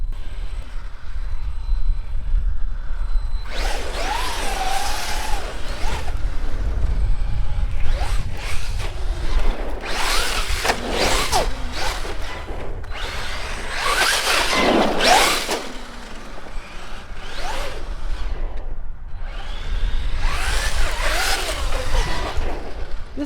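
A Traxxas Maxx 4S RC car makes repeated fast passes and launches on a road, its high electric whine rising and fading as it approaches and recedes in several bursts, with no talking.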